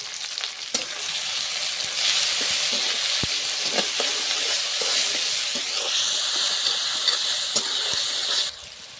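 Chopped onion and tomato fry in a pan for steamed egg curry, a steady loud sizzle and hiss with occasional sharp clicks of stirring, swelling briefly before cutting off near the end.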